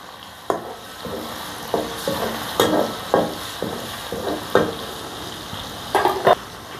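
Green chillies sautéing in a pan for masala egg bhurji, with a low sizzle and repeated scraping stirs of a utensil against the pan at an irregular rhythm, close and moderately loud, with no talking.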